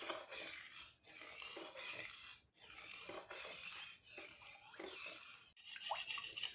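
Strained yogurt stirred into milk to make saffron dahi, with rhythmic scraping and swishing strokes in a bowl, repeated roughly every second and a half, close and quiet.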